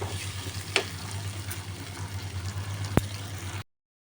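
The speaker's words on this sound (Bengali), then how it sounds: "চিংড়ি মাছটার সাথে একটু ভাজা ভাজা হবে।" Prawns frying in a pan with ground coriander and cumin, a steady close sizzle with a low hum beneath and a couple of sharp utensil clicks, no voices.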